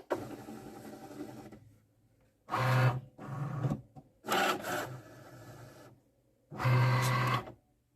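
A Cricut Maker 4 cutting machine loads its cutting mat, giving several short close motor whirs separated by brief pauses, each burst stopping abruptly.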